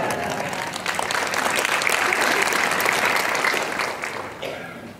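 A church congregation applauds a visiting missionary pastor with dense, sustained clapping from many hands, loud and even throughout, easing off slightly near the end.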